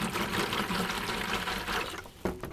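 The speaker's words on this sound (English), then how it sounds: "And we're going to add water and mix it, stir it real good" Water is poured over 2.5 ounces of alum and stirred vigorously for pickle brine, a steady wash of splashing and swirling with a few sharper knocks near the end.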